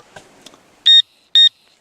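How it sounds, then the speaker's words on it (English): Two short, high electronic beeps from a Garrett metal detector pinpointer sound close by, evenly spaced, after some faint rustling. "3 beeps means I am on the highest setting"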